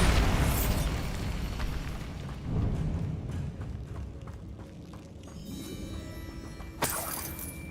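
Bombarda blasting spell from Hogwarts Legacy on PS5: a loud opening boom with a rumbling tail, then a second sharp burst later, heavy low rumble throughout.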